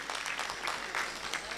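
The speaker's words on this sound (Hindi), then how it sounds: "एक बार कोटा रेष्ठा टीम के लिए जोरदार तालियां आप बजा दीजिए" An audience at a public event in Kota claps for a team. The applause is steady, faint and distant, and lasts only a moment.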